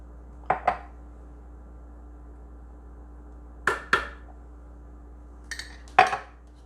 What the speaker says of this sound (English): one big scoop of peanut butter.